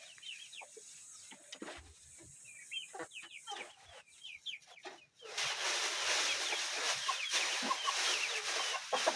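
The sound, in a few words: chickens clucking in a backyard coop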